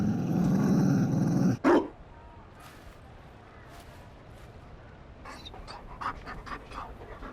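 A Mabari war dog in the video game Dragon Age Inquisition pants with a few quick breaths after a short burst of speech, then faint snuffles and soft rhythmic panting close by.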